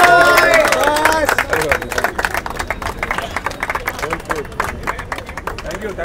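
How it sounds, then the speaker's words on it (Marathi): A crowd at a cricket league prize ceremony breaks into loud, sustained clapping for a player who took the field with a broken hand, the applause rippling densely and then fading slightly under a speaker's voice. "त्यांच्यासाठी जोरदार टाळ्या होऊन जाऊन देत"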